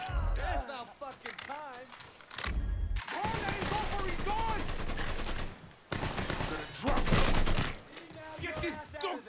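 Bursts of rapid enemy turret gunfire in Mafia III, loud fusillades broken by brief pauses, mixed with someone talking excitedly over the shooting.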